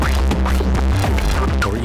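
Elektron Digitone II polyphonic synthesizer producing a dense, throbbing, noisy textured patch with rhythmic pulses, loud and continuous with no voices.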